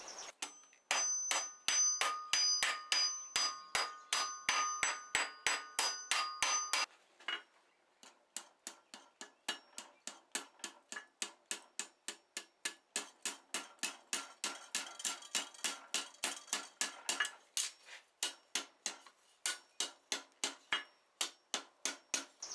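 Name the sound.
cross peen hammer dishing hot steel hinge on anvil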